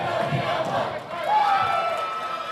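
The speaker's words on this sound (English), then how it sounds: "As you hear the crowd, I think they've made it official." Basketball crowd at a high school game between Rich and Kemmerer, cheering and whooping loudly and continuously as the final seconds tick off, swelling again after a brief dip midway.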